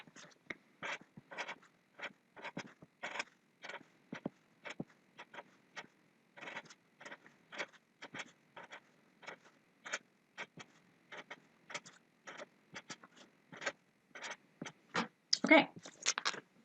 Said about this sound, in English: Now I'm going to write my lowercase letters around the inside.